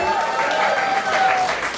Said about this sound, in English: So give a round of applause to the MDCNY board